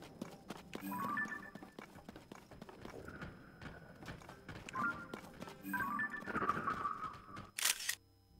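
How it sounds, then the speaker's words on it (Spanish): Horse hooves clip-clop in The Legend of Zelda: Tears of the Kingdom, a run of soft rhythmic hoofbeats mixed with game sound effects and chimes, ending with a sharp bright burst. "miren un caballo"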